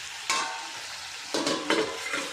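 Chicken curry of country chicken stirred in a pan, a few scraping, sizzling strokes close up with quiet frying between them and no talk.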